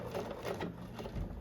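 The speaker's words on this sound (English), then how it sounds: "you'll go ahead and back stitch" A sewing machine back stitching a seam in faux leather on a skirt, running in a steady, close mechanical whir with a brief pause midway, no talking.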